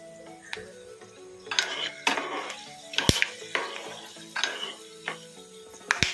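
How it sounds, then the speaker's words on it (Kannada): Peppercorns dropped into hot oil in a home kitchen pan for thili saru, giving close crackling sizzles with sharp pops and ticks, a few stirring clinks, no talking. "ಈಗ ಎಣ್ಣೆ ಬಿಸಿಯಾಗಿದೆ ಸ್ವಲ್ಪ ಮೆಣಸು ಹಾಕೋಣ"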